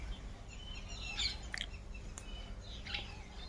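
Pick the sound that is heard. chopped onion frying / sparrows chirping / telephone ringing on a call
sparrows chirping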